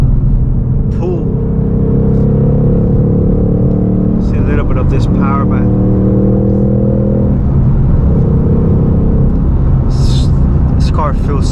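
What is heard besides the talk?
Ford Mustang Mach 1 engine accelerating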